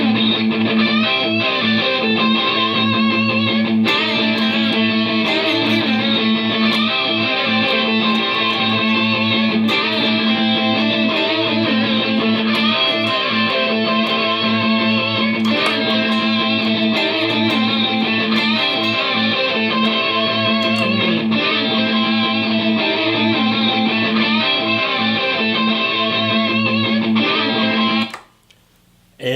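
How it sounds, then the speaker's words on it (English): Electric guitar played through a Head Rush pedal board, a dense, continuous distorted effects-laden tone running for nearly half a minute without pause, loud and close, ending abruptly. "let's hear some sounds from the pedal board."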